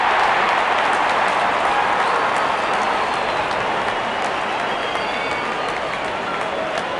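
A cricket stadium crowd during a Pakistan versus South Africa T20 match cheers as the openers walk out, a steady, dense roar of distant voices and clapping that holds at an even level throughout.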